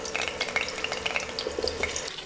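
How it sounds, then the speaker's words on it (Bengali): Potato pieces stirred constantly as they fry in hot oil for chicken biryani, a steady close sizzle broken by light scraping and clinks of the spatula, heard alone without talk. "আলু দিয়ে অনবরত নেড়ে ভেজে নিচ্ছি।"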